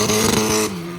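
Car engine revving hard at a GP Explorer motorsport event, a loud strained rising roar with harmonic whine that cuts back sharply near the end to a lower idle-like hum.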